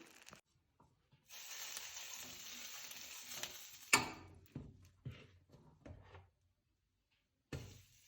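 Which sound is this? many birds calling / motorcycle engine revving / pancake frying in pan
pancake frying in pan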